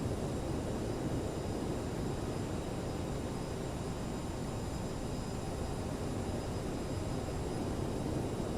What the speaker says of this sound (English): Jazz 712 is taxiing to stand Alpha 43 via Kilo and Alpha November.